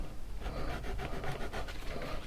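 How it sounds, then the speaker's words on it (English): Sandpaper rubs a groove into leather for a knife sheath, a soft, steady rapid scratching at close range with no talk. "start sanding in a groove"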